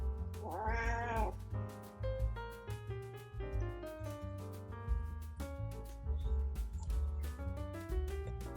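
A domestic cat meows indoors, close and clear. Several distinct meows come in a row, the first long and wavering and the rest shorter, over a low steady background hum with no speech.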